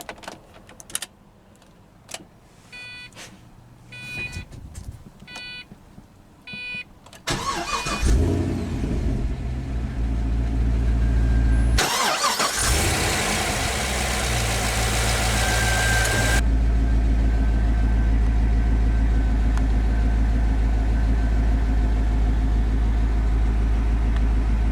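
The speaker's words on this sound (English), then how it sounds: "But now that we're behind the wheel, let's go ahead and start the engine." A 2006 Pontiac GTO, an Australian-built American muscle car, cranks and fires up loudly after a few interior clicks, then settles into a steady, deep, close idle.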